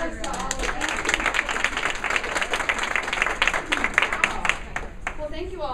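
A women's roundtable audience applauding the council members: dense, continuous clapping from a room-sized crowd, steady and fairly loud throughout, with voices mixed in.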